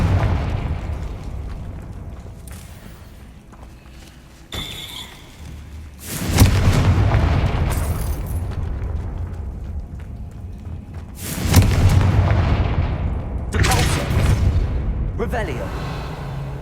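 Confringo fire spell blasts in the Hogwarts Legacy video game, several loud booming bursts a few seconds apart, each with a rumbling decay over game ambience.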